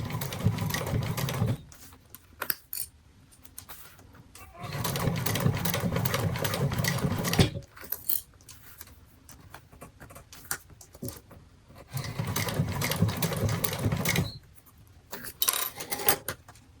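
A sewing machine stitches a laptop bag in three loud, steady runs of fast whirring, separated by quieter pauses with small handling clicks and taps.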